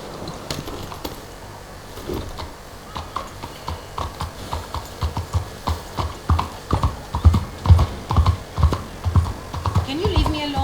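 Horse hooves clip-clopping in Red Dead Redemption 2, a steady run of close, crisp hoofbeats that grows louder and quicker over the clip, with a rider's voice briefly heard over them.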